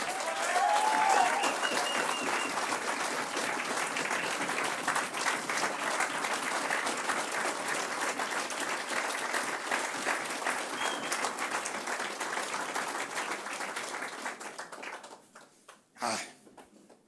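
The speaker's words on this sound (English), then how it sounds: "I'd like a big round of applause from my man, Eric Workin" A big round of applause at a university Hall of Fame induction ceremony, steady crowd clapping held for about fifteen seconds, then fading out into a brief sharp sound at the end.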